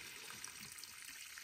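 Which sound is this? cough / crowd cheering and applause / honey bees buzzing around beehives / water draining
water draining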